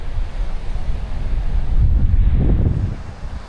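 Waves break and wind buffets the microphone on a beach at Playacar in Playa del Carmen, a continuous loud roar of surf that swells toward the middle, with no voices.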